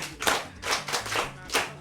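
An audience claps in several swelling bursts of applause at a Yoruba podcast event, rising and fading roughly four times over a low background hum, with no one speaking.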